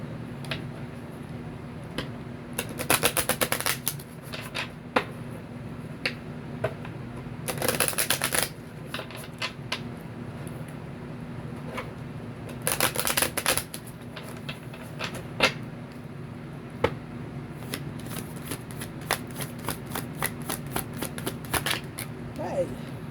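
Cosmic Oracle cards being shuffled in several quick, crisp riffling bursts separated by lighter taps and clicks, close by, with a person talking over the steady background.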